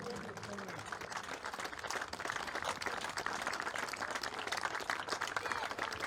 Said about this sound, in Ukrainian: Дякуємо Валентину гуртливими оплесками.